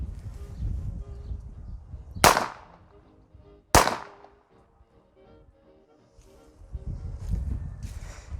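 Two sharp, loud gunshots from a Colt M1911 pistol ring out roughly a second and a half apart, each with a quick decaying echo, between stretches of quiet outdoor background.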